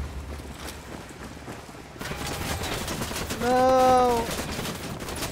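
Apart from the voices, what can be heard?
gunfire in Ghost Recon Wildlands video game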